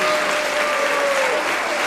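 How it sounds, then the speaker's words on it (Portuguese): Congregation in a church service applauding together, a steady dense wash of clapping filling the whole short stretch, with a faint sustained tone underneath. "Você pode aplaudir ao Senhor pela palavra desta manhã."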